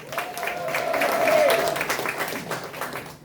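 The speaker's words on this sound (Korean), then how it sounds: "박수 부탁드리겠습니다." Party members at a Democratic Party meeting in Daejeon give a short round of applause, a moderate wash of clapping with a brief voice over it, fading out at the end.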